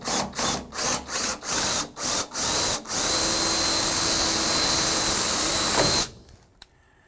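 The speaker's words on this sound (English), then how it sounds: "I'm just going to go ahead and drill it out as well" A power drill drilling out a screw on a car windshield whirs in rapid short bursts, then runs steadily for several seconds before stopping and falling quiet.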